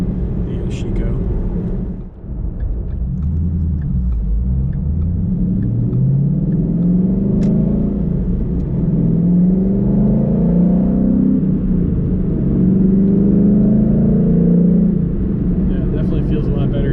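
A 2014 Ford Mustang GT with a weighted shift knob runs steadily through third and fourth gear, its engine a loud, constant low rumble that rises and eases between shifts, with speech over it.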